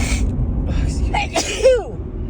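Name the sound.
sneeze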